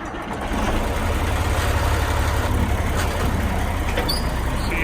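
A tractor hauling a load down to a storage yard, its steady low engine drone running continuously at close range with no talking.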